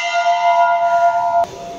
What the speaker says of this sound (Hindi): ये घंटा बजा देता हूँ काफ़ी बड़ा।